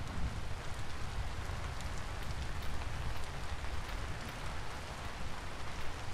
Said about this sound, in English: It is still raining up a storm out here.